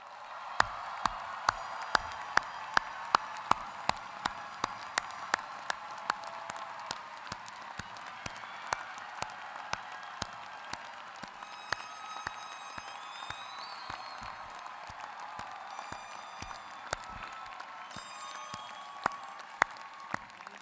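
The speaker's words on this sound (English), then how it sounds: "applause." Commencement ceremony crowd giving a standing round of applause for graduates' families, long sustained clapping with sharp individual claps scattered through a steady wash, plus occasional whistles and cheers, heard from a distance in a large venue.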